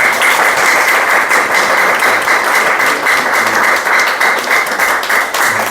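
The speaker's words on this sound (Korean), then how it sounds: "여러분 큰 박수로" Loud, sustained applause from a seminar audience, a thick continuous clatter of many hands clapping close by from start to finish with no talk over it.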